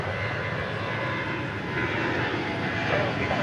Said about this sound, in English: It's another 737-700, dating back to the year 2000.